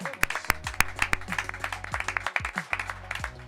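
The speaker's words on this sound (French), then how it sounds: "on peut applaudir Anto, c'est vrai." Clapping in a French studio show, a small group giving sharp, distinct claps in a loose uneven rhythm, close and fairly loud, with some voices underneath.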